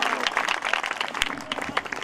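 A church congregation claps steadily in dense, continuous applause that fills the room, with faint voices underneath.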